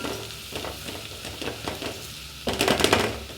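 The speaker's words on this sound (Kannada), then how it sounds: "ಈರುಳ್ಳಿ ಫ್ರೈ ಆದಮೇಲೆ ಸ್ವಲ್ಪ ನೋಡಿ" Onions frying in a pan while dal is being prepared, a steady soft sizzle with scraping stir strokes, louder and busier bursts of sizzling near the end; no talking.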